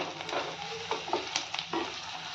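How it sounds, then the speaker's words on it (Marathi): Onion, garlic, ginger and green chili roasting in a pan make a soft, steady sizzle with occasional stirring scrapes, close and fairly quiet. "हिरवी मिरची लसूण आणि आलं याचा कच्चेपणा जाईपर्यंत हे व्यवस्थित आता भाजून घेऊयात"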